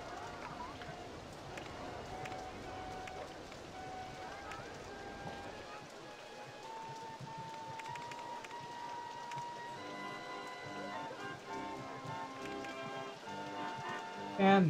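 Rain falls in the Roller Coaster Tycoon video game, a soft, steady patter that runs under the game's background music.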